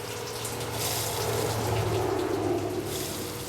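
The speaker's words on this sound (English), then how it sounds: "And the water looks decent, it's coming out." Water gushes out of a car heater core during a flush, a steady rushing, splashing flow with a low pump-like hum beneath it, continuous and fairly close, with no talking.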